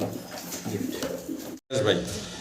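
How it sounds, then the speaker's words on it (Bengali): Pigeons coo in low, throaty rolls at a pigeon farm. The sound is fairly close and continuous, with people talking nearby and a brief dropout partway through. "কি দেখতেছি গোল্লা কবুতর"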